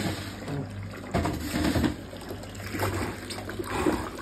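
Floodwater pours and splashes through a house kitchen, a steady rushing, spattering wash close by that surges louder around the middle and again near the end, with no talk over it.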